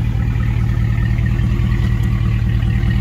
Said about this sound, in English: I'm sure you can hear it. It does have an aftermarket exhaust system on it now.